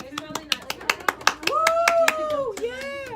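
A few people clap in distinct, separate claps for a star student, then a voice talks and vocalizes over the end; a small, close group rather than a large audience.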